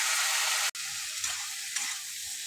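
Boiled potatoes and peas frying with onion in a pan while being stirred, a close hissing sizzle broken by a sharp clack and a brief dropout, then soft scraping strokes.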